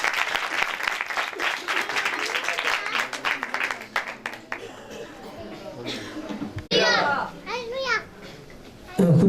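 Audience at a church Christmas program breaks into loud, dense clapping for several seconds, with children's voices mixed in, then the applause fades and a voice speaks over a quieter crowd.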